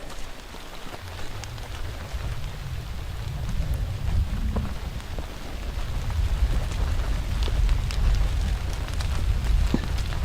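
Light, steady rain falls at a lakeside campsite in Algonquin Park, a continuous patter on surfaces and water that grows slightly fuller over about ten seconds, with occasional closer drips standing out and no one talking.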